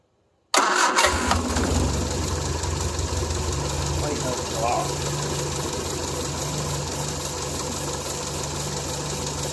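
A Triumph Spitfire that sat for 12 years cranks and fires up, then settles into a loud, steady, slightly rough idle close by.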